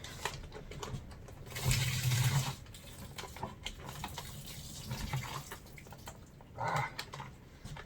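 Hot water swishes and sloshes inside a beer brewing vessel during a rinse, in irregular gushes with a louder surge partway through, fairly quiet overall.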